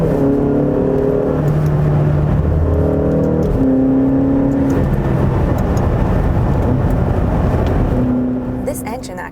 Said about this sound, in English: This engine actually sounds lovely in all driving modes.